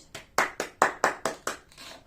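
Hand clapping at a children's fruit and vegetable activity: about seven sharp, separate claps in an uneven rhythm, close and fairly quiet, with no talking.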